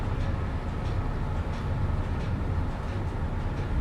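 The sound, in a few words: passing empty coal train hauled by Class 25 locomotive, Train Sim Classic video game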